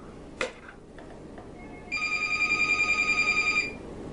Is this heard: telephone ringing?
yes